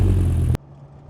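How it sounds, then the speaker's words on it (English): A 1997 Dodge Viper GTS exhaust gives a loud, deep rumble up close for about half a second, then cuts off abruptly, leaving only a faint low hum. "You'll pick up a bit of the exhaust note and the cold start in this video"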